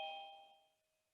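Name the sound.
doorbell ringing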